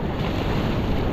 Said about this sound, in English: I'm in the middle of a lot of waves